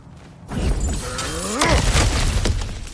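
Smashing through objects in a video game: after a quiet start, a loud crashing, shattering burst breaks out, with grinding, creaking debris and repeated impacts carrying on to the end.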